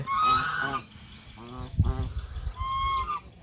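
Geese swimming on water give several loud, nasal honks in short bursts, close by, with a brief low rumble between calls.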